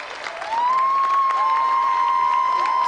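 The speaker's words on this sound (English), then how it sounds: "So let's have another round of applause for Carl Lewis, Colin Jackson, Linford Chris" Studio audience on a game show clapping steadily, a dense wash of applause, with a sustained electronic tone running over it.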